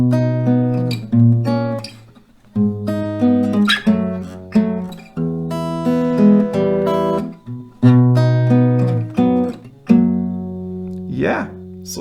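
Acoustic guitar plays the melody of a song at standard tempo, close and clear, with plucked notes in phrases and brief gaps, ending on a scraping flourish.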